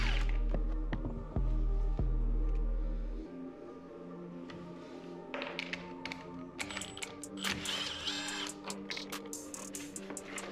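Bolts being loosened and removed from the plastic bodywork of a dirt bike during a restoration, heard as scattered close taps, clicks and metallic clatter over a low steady hum, with no talking.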